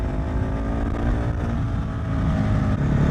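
A 2021 KTM 690 SMC R single-cylinder motorcycle drops down through its gears, a steady throaty engine drone heard close and fairly loud with no voices.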